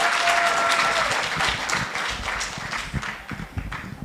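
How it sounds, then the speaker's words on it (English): A large audience at the Africa Women's Forum 2025 leadership gathering bursts into sustained, dense applause with some cheering, loud at first and gradually thinning toward the end. "we clap until he gets here"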